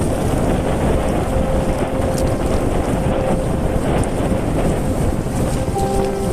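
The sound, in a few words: wind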